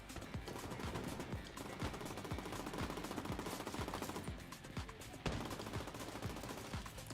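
Steady gunfire in The Division 2, dense rapid bursts of shots running continuously throughout, fairly faint in the mix.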